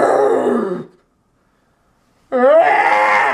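Man groaning loudly in exaggerated vocal imitation of orgasm, two rough throaty bursts separated by a silent gap, the second rising and wavering in pitch, close and alone.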